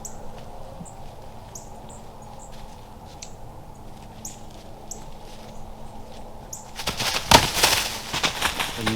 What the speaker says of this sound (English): I'm pretty sure a bird almost landed on his back and it freaked him out